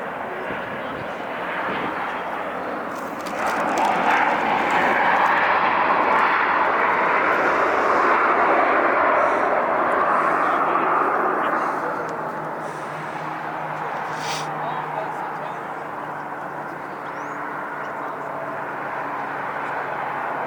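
A Lufthansa airliner rolls for takeoff at LAX. The engine roar swells to a broad, loud peak, then eases as it moves away, with talk nearby.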